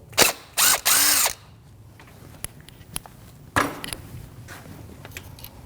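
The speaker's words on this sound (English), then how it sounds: "we're going to remove that mounting bolt." A ratchet with a 10mm socket loosening the mounting bolt of an exhaust camshaft position sensor on a 2016-2022 Chevrolet Malibu 1.5L: a few loud, close bursts of clicking, then scattered lighter taps and a final shorter burst.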